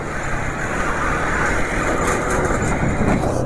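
A motorcycle engine runs steadily while riding on a road, a continuous close rumble mixed with broadband road and wind noise, without any talking.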